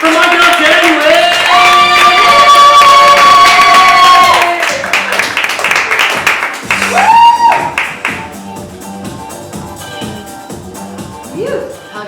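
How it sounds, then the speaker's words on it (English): Audience at a stand-up comedy night in LA clapping and cheering for comedian Jenny, loud applause with a voice and whoops over it, tapering into scattered claps and talk. "give her a applause now and get it going for my girl, Jenny"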